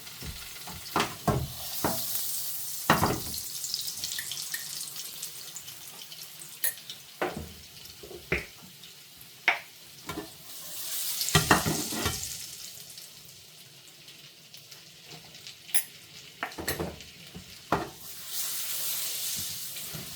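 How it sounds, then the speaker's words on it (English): Red paprika stirred into sizzling olive oil and melted butter in a pan on a boat stove, a steady fry hiss with repeated scraping, clinking stir strokes and a splash of water in between. "add red paprika and stir gently to release the aromas"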